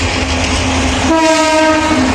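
A loud locomotive rumbles nearby during an engine change at a station stop, then a long steady horn blasts over the engine noise.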